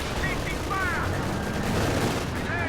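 MG34 machine gun and rifle fire in a real-time strategy battle, a continuous crackle of automatic and rifle shots at a steady level, moderately distant with no pauses.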